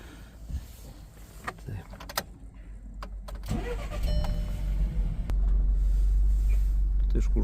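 A Volkswagen Touran 1.4 TSI converted to run on gas starts up, its engine catching midway and settling into a steady, loud idle close by after some earlier rustling and clicks.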